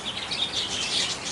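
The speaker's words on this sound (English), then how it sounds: "Birds." Birds chirp outdoors in a busy, continuous cluster of high tweets during a garden flood, fairly loud and close and with no talk.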